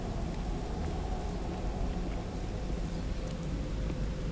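Steady rain in the game The Sinking City, a dense continuous hiss of downpour with low rumbling thunder beneath it, loud and unbroken throughout with no voices.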